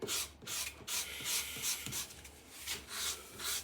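A wooden guitar neck is rough-shaped and hand-sanded, giving faint, rhythmic back-and-forth rasping strokes, close and steady with no voices.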